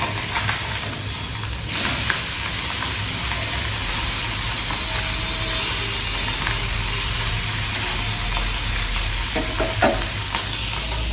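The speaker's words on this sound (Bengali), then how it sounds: "আমি অল্প সামান্য তেল দিয়ে মাছগুলোকে ভেজে নিচ্ছি। মাছগুলো ফুটছে, খুব ফুটছে" Fish fry in a little oil in a pan, bubbling and spitting hard with a continuous loud sizzle and a few scraping stirs near the end.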